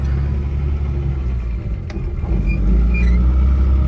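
Engine of a 1981 Datsun MQ Patrol with an SD33 diesel and four-speed gearbox, shifted without the clutch, gives a loud steady diesel rumble that dips briefly during a gear change and then rises again as it revs.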